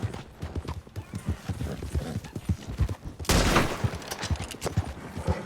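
Rapid gunfire crackles in a burst among steady horse hoofbeats in Red Dead Redemption 2 during a winter endurance race, with a sharp, loud volley midway and someone speaking briefly.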